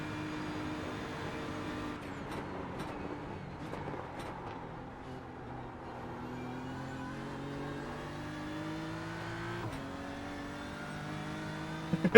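Race car engine in iRacing at the Nürburgring, revving steadily and rising in pitch through gear changes, continuous and close throughout with a brief sharp blip near the end.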